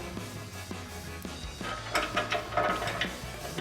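A ratchet tightens combo bolts and flange nuts that hold a Barricade HD2 front bumper on a 2016-2023 Toyota Tacoma. Quiet, close mechanical clicking repeats steadily through the clip, with no voices.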